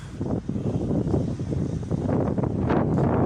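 Strong wind buffeting the microphone on a beach around sunset, a steady low roaring rumble with gusty swells throughout, loud and continuous with no talk.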